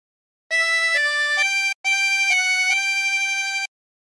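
Harmonica playing a short melodic phrase from O Canada: a few sustained reedy notes changing pitch, clean and close with no talking, ending in silence.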